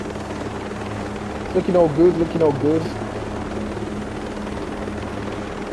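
A helicopter flies in the video game Ghost Recon Breakpoint, its steady rotor drone running throughout at moderate loudness while someone speaks briefly over it.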